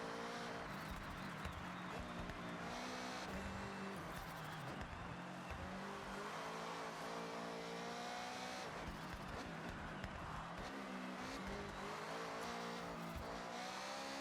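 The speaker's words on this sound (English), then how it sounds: "I will say the car sounds have gotten a lot more accurate" Car engine in the Forza Horizon racing game, revving and accelerating loudly with a continuous layered roar and shifting pitch, occasional tire squeal, heard throughout without speech.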